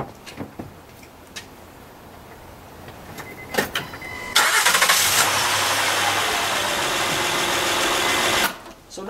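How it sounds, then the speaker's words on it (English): A Honda V6 engine is cranked and starts after a spark plug replacement, with scattered clicks and clanks first, then a steady, loud idle that cuts off near the end. "we can go ahead and fire this motor right up"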